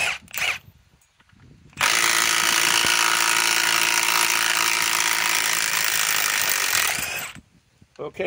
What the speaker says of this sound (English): Now let's try to remove it again with the Gen 1 Stubby.